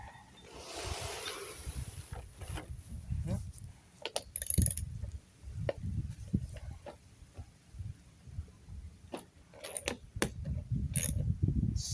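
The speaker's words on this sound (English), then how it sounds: "We're gonna take off the wheel retaining bolt." A wheel retaining bolt being removed from a Toro 22-inch lawn mower, with scattered metallic clicks, ratcheting and clanks of tools and parts, close and fairly quiet with low handling thumps between.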